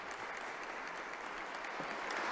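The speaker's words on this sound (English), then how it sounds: "The diplomats here in the Aula della Benedizione, applauding the discourse" Diplomats in the Vatican's Aula della Benedizione applaud Pope Francis's address, a steady, dense wash of many hands clapping in a large hall, sustained without a break.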